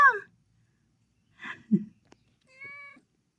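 A cat meows a few times up close, with short separated cries and a longer, tonal meow at the end, amid quiet pauses.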